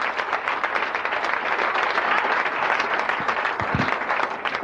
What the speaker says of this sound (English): please, a big round of applause